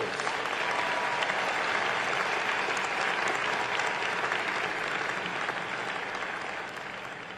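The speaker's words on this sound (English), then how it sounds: "So let's give him a round of applause." A large crowd applauds at the Howard University commencement, a dense, loud, continuous roar of clapping that holds steady for several seconds before easing slightly at the end.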